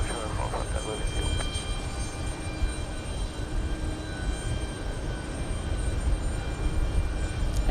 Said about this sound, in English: And we got the mighty E175 pushing.